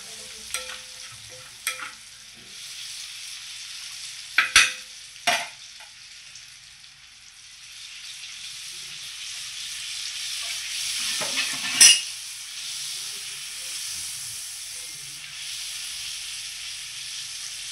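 Food frying in Amul butter in a pan gives a steady soft sizzle and hiss, with a few sharp clinks and scrapes of a utensil now and then and no voices.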